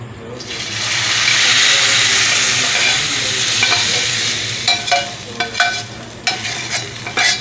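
A tadka tempering for Multani rawaan daal sizzles loudly as it hits the pot, a sudden hissing burst that fades into a steady crackle, followed by scattered stirring clinks and splutters up close.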